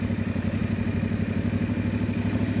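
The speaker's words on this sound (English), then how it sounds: "we're going to slowly, with our left hand, release the clutch, and we're going to see when the bike starts to kind of lurch forward" A motorcycle engine idles close by in a fast, even, throbbing rhythm as the clutch is slowly let out and the bike starts to creep forward, with no change in pace and no voices.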